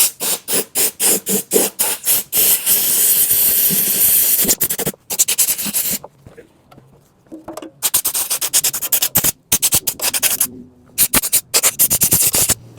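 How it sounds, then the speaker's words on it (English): Compressed air blasting loose, flaking paint off a small-block Chevy oil pan: a rapid series of loud, sharp hissing bursts, then a brief quieter gap and more short blasts, close to the mic. "I'm gonna just blow off some of the loose flaking paint now."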